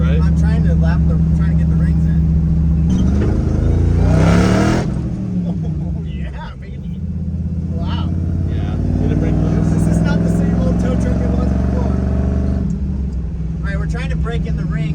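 A rebuilt supercharged LS V8 in a tow truck revs loudly and repeatedly while the new piston rings break in, the engine note rising and falling in long swells, with someone talking over parts of it.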